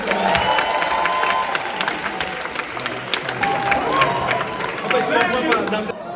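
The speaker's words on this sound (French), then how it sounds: "Maximum d'applaudissements pour Nadège Chavana." A crowd applauds and cheers loudly for a performer, with brisk clapping, shouts and whistles, and excited voices mixed into the noise the whole time.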